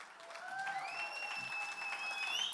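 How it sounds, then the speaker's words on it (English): Audience at the Agni trailer event claps in steady, dense applause, with whistles cutting through above the crowd noise. "give him a big round of applause"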